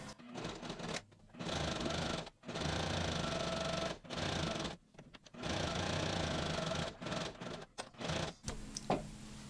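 Sewing machine running a straight stitch on a fabric face mask, with a steady whirring hum in several runs separated by brief pauses, close and fairly quiet.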